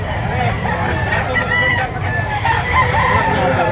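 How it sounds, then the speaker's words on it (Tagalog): Roosters and chickens crow and cluck at an auction market in Lipa, close and fairly loud amid a busy crowd murmur. "Ganda manok ah."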